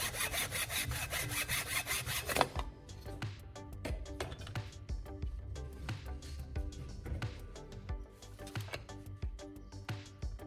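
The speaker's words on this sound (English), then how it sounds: "carefully cutting the metal ferrule and bristles off, because we only need the wooden handle for our project" A metal ferrule and bristles being sawn off a wooden brush handle: loud steady rasping strokes at first, then lighter, quicker rhythmic scraping and small taps close by, with no talking.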